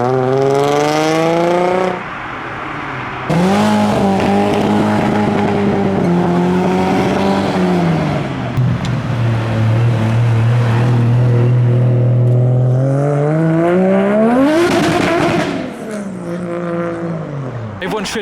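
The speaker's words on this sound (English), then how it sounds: "Lamborghini that's just arrived" A Lamborghini at a car meet revs and accelerates close by, its engine note rising and falling in loud sweeping surges with a sharp high burst near the end, over crowd noise.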